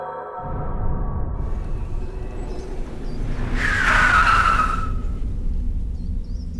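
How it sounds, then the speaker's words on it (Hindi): A car brakes hard to a sudden stop with a rising tire screech over engine rumble, the squeal sharp and close for about a second before the motor keeps running alone. "गाड़ी क्यों रोकी?"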